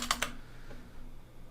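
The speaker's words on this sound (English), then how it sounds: "I'm just clicking Shift, and I'm clicking Enter twice" Two quick clicks on a computer keyboard, the Shift and Enter keys, land close together at the start, then the room goes quiet.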